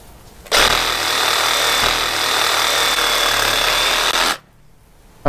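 Powered blade cutting through a pig's hoof during home butchering, a loud, steady, buzzing grind lasting about four seconds, starting and stopping abruptly with no talk.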